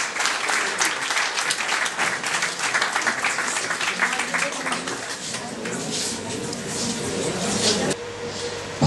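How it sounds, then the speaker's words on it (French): A theatre audience at a stage hypnosis show applauds the volunteers, a steady loud wash of clapping that holds for several seconds with a few voices mixed in. "Je vous demande d'applaudir les volontaires."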